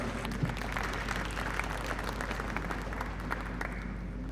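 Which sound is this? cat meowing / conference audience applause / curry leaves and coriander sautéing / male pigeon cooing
conference audience applause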